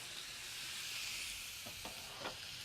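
Marinated steak for carne asada sizzles on a grill, a faint, steady hiss with a few soft pops near the end and no voices.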